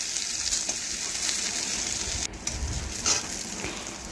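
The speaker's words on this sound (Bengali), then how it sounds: "ভেজে নিয়ে দিয়ে দিলাম পেঁয়াজ কুচি" Chopped onions sizzle and fry steadily in hot oil in a pan for a Bengali fish curry, a close, continuous crackle with faint stirring scrapes and no talk.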